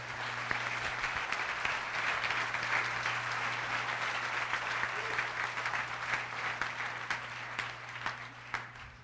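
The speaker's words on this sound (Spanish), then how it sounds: "Denle un aplauso al Rey, por favor." A church congregation at a Sunday service applauds steadily for about nine seconds, a dense and even wash of clapping with a low hum running underneath.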